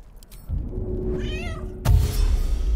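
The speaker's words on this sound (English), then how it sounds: "It can meow." A druid in cat form in Baldur's Gate 3 lets out a single clear meow in the middle, followed by a sudden thump and a background game ambience.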